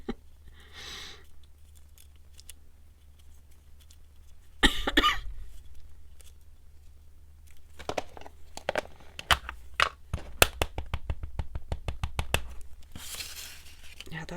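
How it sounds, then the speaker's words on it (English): Several coughs from a person at a desk break through quiet crinkling and handling of paper and stamps, with scattered short bursts and a chatty voice nearby; the coughing is moderately close but not loud. "that cough is a never-ending thing"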